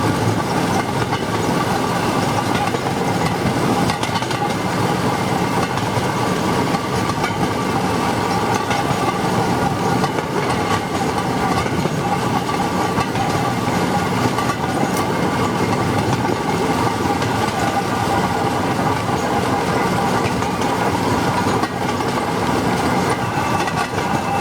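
A rail draisine rides a narrow-gauge railway track, giving a steady close rumble with faint clickety-clack from the rails throughout and no talk.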